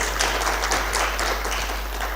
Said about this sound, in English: Can we give him another round of applause?